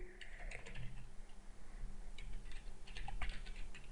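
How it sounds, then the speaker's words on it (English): Rapid clicking keystrokes on a computer keyboard while writing Python code, an uneven patter of close, moderately quiet taps with no speech. "Oh yeah, me and my typing."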